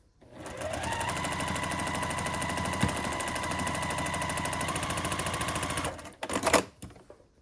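A sewing machine stitches a triangle unit for a scrappy sampler quilt block in one steady, continuous whir of rapid needle strokes lasting about five seconds, then it stops and brief handling clatter follows.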